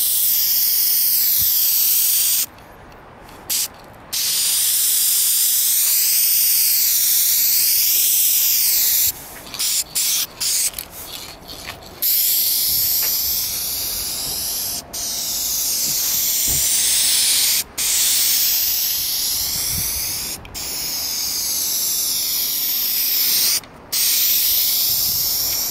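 Dupli-Color aerosol paint sprays onto a car part in a home shop, a loud steady hiss in long bursts broken by short pauses where the nozzle is released, with no talking.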